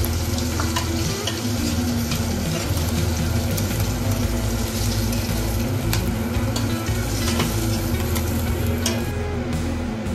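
Fish frying in hot oil in a pan, a steady, dense sizzle and crackle running close and loud throughout with no voices.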